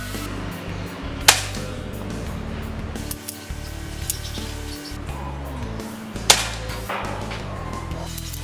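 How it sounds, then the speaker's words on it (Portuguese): A wooden QGK-14 5.5mm air rifle fires two sharp shots, each a crisp crack several seconds apart, over steady low background noise. "agora eu vou fazer uma demonstração de disparo dessa carabina para vocês"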